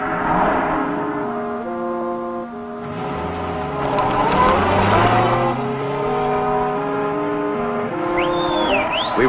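Car from a 1955 crime film driving along, its engine droning and shifting pitch as it revs and accelerates, loud and continuous, mixed with orchestral score tones throughout.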